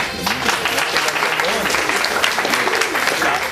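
An audience claps for performers coming on stage at a school centenary event, dense continuous applause with an announcer's voice heard faintly beneath it.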